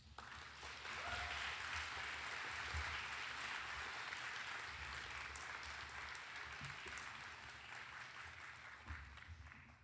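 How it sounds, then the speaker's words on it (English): Sustained audience applause at a diploma ceremony, a dense, steady wash of many hands clapping that holds at an even level throughout, with faint low murmur underneath. "Can we just give Bay another round of applause?"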